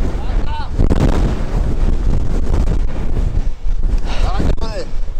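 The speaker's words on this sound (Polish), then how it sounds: "Jaki tu jest wiatr!" Strong wind roars at the rock city in Georgia, loud and gusting as it buffets the microphone, with people shouting over it.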